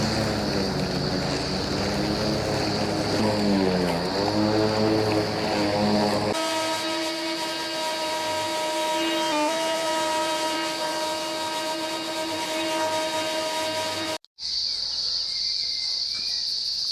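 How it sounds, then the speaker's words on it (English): A petrol Ryobi garden vacuum runs while collecting lawn clippings, first in a warbling, uneven engine drone, then in a steady high-pitched whine with strong harmonics, broken by a sudden brief cutout before a hissy roar resumes. "So I'll get the Ryobi out now and just vacuum it all up"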